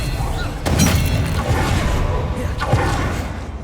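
A disarming spell cast in Hogwarts Legacy, a video game: a sudden whooshing burst with a sharp crack near the start, then a second impact later, over a dense, loud backdrop of rumbling effects and music.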